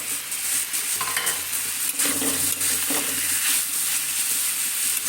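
Eggplant frying in a pan, a loud continuous sizzle with bursts of scraping and stirring in the middle, close by and with no talking.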